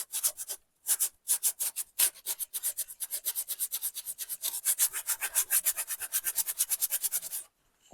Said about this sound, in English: You just sand and sand until you get it to where you want it to be